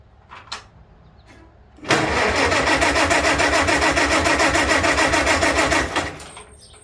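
An engine is cranked and fires after its fouled spark plugs are checked, with no choke used. After a few quiet taps, a loud, close, steady pulsing run lasts about four seconds and then cuts off.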